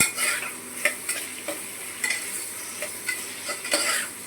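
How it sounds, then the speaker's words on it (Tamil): Onions sauté with salt in a pan for chicken kuzhambu, a steady close sizzle with repeated stirring scrapes throughout. "வெங்காயம் வதங்கிறதுக்கு அதோட உப்பு சேர்த்து நீங்கள் வதக்கினீங்கன்னா வெங்காயம் சீக்கிரமாக வதங்கிடும்."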